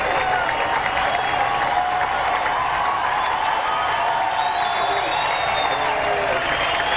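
A golf gallery applauds steadily at the 2000 PGA Championship playoff, a broad, continuous wash of clapping from a large crowd, with faint voices mixed in.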